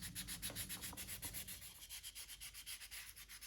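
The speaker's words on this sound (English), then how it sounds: "Just finishing things up with a lot of hand sanding to smooth everything out" Hand sanding on a carved wooden robin: quiet, rhythmic rubbing strokes of abrasive on wood, repeating at a quick steady pace, close up and alone.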